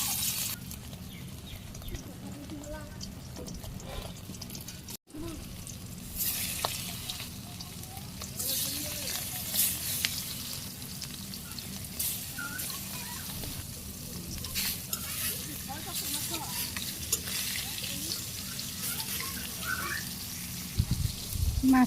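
Pieces of fish sizzle steadily in hot oil in a home kitchen, a continuous close frying hiss running the whole time with occasional stirring and pan clatter, with no talking.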